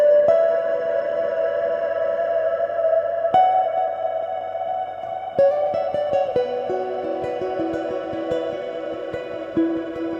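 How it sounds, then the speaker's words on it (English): Guitar notes through a reverb pedal ring out with a lush, shimmering, synth-like reverb tail, each plucked note swelling and lingering into the next. "Usually you'd have to pay some good money, I think, to get a decent reverb pedal to sound like that"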